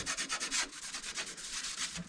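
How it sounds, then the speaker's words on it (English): A rag soaked in brake cleaner scrubs permanent marker off a '57 Chevy part, giving a quick, rhythmic back-and-forth rubbing of about a dozen soft, close strokes with no talking. "a little bit of brake clean and a little rag takes Sharpie or a permanent marker right off"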